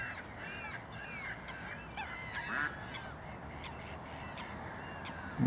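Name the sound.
passing geese honking near reservoir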